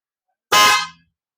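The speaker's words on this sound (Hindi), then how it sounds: "सबसे पहले हॉर्न बजा के दिखाते हैं आपको हेला का" Hella car horn blown once, a single loud, close blast of about half a second with a bright, harmonic tone, no talking.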